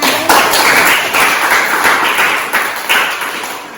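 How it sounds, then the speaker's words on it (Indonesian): A roomful of people clapping steadily, a loud, dense applause that swells in waves and carries on throughout. "Tepuk tangan dulu untuk"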